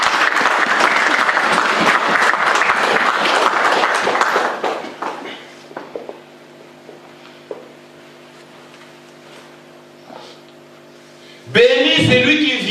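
A church congregation claps loudly and steadily for several seconds during a Palm Sunday service, the applause fading into a quiet, humming room before a sudden burst of sound at the end.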